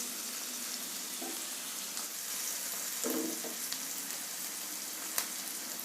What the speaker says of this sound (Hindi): और इसको हल्का सा ब्राउन होने तक भूनते हैं प्याज को